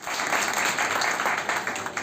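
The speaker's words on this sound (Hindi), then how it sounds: "ताली बजाओ दे" A crowd's applause at a Hindi comedy poetry recital, steady and fairly loud throughout.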